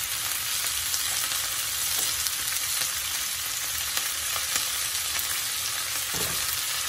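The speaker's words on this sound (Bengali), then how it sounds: "তো আমার পেঁয়াজ রসুন হয়ে গেছে, এখন আমি শাকটা দিয়ে দিচ্ছি" Leafy greens are added to a pan of fried onion and garlic, giving a steady, close sizzle with occasional stirring scrapes throughout, no talking.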